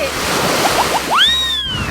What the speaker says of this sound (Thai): เพราะว่า ต่อสู้กับคลื่นยักษ์นะคะ